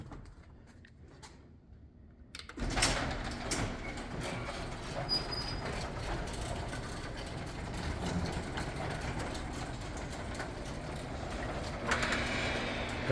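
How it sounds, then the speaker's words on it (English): A garage door starts up after a quiet moment and then runs with a steady mechanical rumble and drone that continues without a break to the end. "Let's test the garage door."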